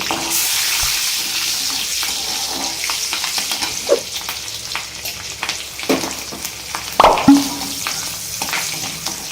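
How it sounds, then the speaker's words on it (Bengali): Bay leaves, green chillies, cinnamon and whole spices crackle and sizzle steadily in hot oil in a pan, with occasional louder pops and spatters as they are stirred. "তেল গরম হয়ে গেছে এর মধ্যে আমি তেজপাতা কাঁচা লঙ্কা মশলা আর দারচিনিটা দিয়ে দেব মশলাগুলোর মুখটা একটু ফাটিয়ে দেবো দিয়ে দিয়েছি এগুলো একটু নাড়িয়ে নেব"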